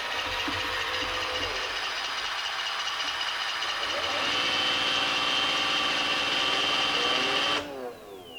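A Roomba i7 robot vacuum running with its corner brush spinning, a steady mechanical whir and hum with a faint ratcheting texture that rises slightly midway and cuts off sharply near the end.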